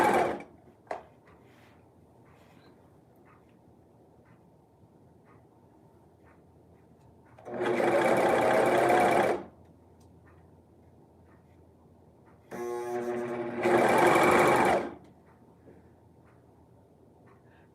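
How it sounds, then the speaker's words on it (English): Bursts of sewing machine stitching on stretch fabric: two loud, close runs of fast needle whirring, each a couple of seconds long, separated by quiet stretches with faint clicks. "we'll jump on this machine, the sewing machine, and we'll give it, you know, an extra set of protection with these stitches"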